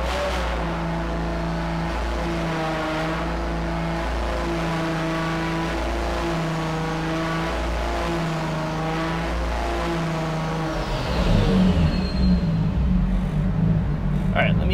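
Nissan RB25DET engine in an S14 held at a steady raised idle around 3000 RPM, a loud continuous drone that shifts and drops toward the end, with a voice talking over it.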